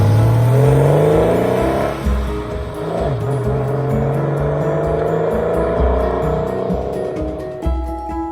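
A Porsche 993 S C2 drives and revs steadily, with rising and falling engine pitch as it accelerates and shifts, loud and close throughout.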